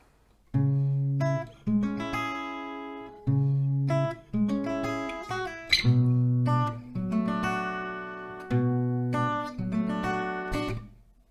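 A plucked acoustic guitar plays a melody, a short line of separate notes in phrases with brief gaps, close and clear with no voices.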